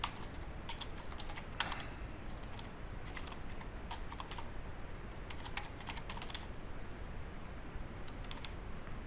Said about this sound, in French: Donc ici, je vais taper mes mots de passe.